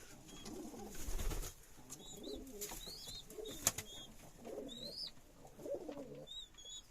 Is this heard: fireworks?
no